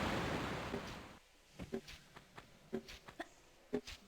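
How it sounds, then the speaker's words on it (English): Water rushes in to flood a chamber in Tomb Raider Remastered's Tomb of Tihocan on PS5, a loud broadband surge that fades after about a second, followed by a voice talking. "I presume this area is going to be filled with water."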